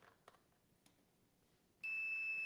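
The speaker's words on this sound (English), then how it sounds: "we're getting the squeal from the meter telling us we have continuity" Multimeter continuity beep while testing an electric range element: a few faint clicks and taps, then a sudden loud, steady high-pitched electronic tone that holds to the end.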